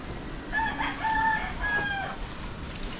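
A rooster crows once nearby, a clear drawn-out cock-a-doodle-doo rising and falling over a soft outdoor background.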